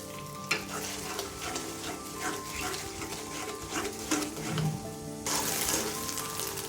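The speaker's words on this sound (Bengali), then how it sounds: "কড়াইয়ে পরিমাণ মতো তেল দিয়ে এখন ডিমটা ভেজে নেব। ডিমটা আমরা এভাবে সরিয়ে স্ক্র্যাম্বল করে ভাজবো।" Egg scrambled and fried in oil in a wok sizzles steadily while a spatula scrapes and stirs it, close and continuous, with a brief louder burst of frying near the end.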